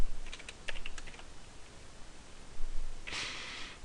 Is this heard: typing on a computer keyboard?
yes